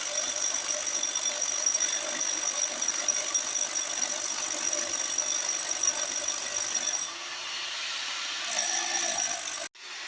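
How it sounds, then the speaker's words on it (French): Steiner SDS Max rotary hammer, a 1700 W 45 J breaker, drilling steadily into a wall. It gives a loud continuous whirring roar with a brief dip near the end and no talk over it. "Il a l'air de bien percer quand même."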